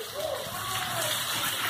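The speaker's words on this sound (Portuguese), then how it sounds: "chuva grossa aqui, chuva com vento" Heavy rain driven by wind in Cacimba de Dentro, Paraíba, in northeastern Brazil: a steady dense wash of rainfall throughout, with a faint whistling tone sweeping above it.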